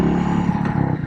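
Royal Enfield Meteor motorcycle engine while riding, a close, continuous low thumping exhaust note with a steady pulsing rhythm.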